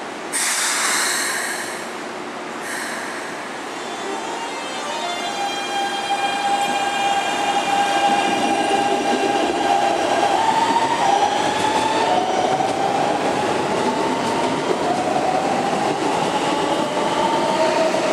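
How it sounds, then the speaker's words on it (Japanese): A Keikyu New 1000 series train pulls out of Shinagawa station, its motor whine rising in pitch as it accelerates, with loud rumbling wheels and faint squeals nearby, no voices. "回送列車が発車いたします。"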